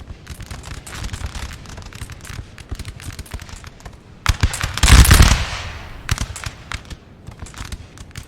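Musket volleys crackle in a Napoleonic Total War battle at Ocaña, 1809, with rolling rapid shots throughout and a heavier booming blast near the middle, loud and close.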